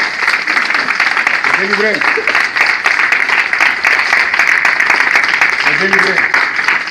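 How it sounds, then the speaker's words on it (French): A church congregation at a deliverance and healing service applauds and cheers for the Lord. The dense, steady clapping and crowd noise runs under a preacher's loud voice the whole way through. "On acclame pour le Seigneur, on acclame pour le Seigneur."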